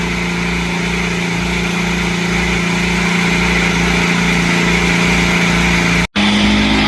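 An IndyCar engine idles steadily at the Milwaukee Mile, a loud, even mechanical drone with a faint regular pulsing, briefly cut by a short dropout near the end before resuming.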